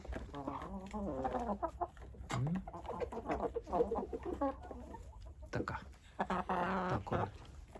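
Hens cluck and squawk repeatedly at close range, a busy overlapping chatter of several birds with short louder bursts throughout.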